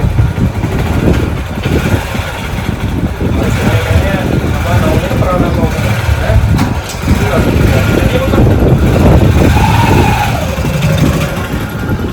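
A motorcycle engine sputters and labours as someone tries to get it started, its rough mid-range running steady and fairly loud under people talking throughout.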